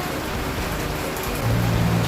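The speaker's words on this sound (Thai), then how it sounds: "ฝนตกกันแล้วคุณผู้ชมข้างนอกครับ" Steady rain falling outside during outdoor cooking, a dense even hiss of drops on surfaces that swells slightly louder near the end.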